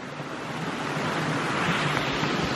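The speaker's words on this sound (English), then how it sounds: "definitely a whole lot of water coming down this creek right now" Creek water rushing steadily through a freshly cleared flume intake during high flow, a continuous broadband roar and hiss, close and loud, with no talking.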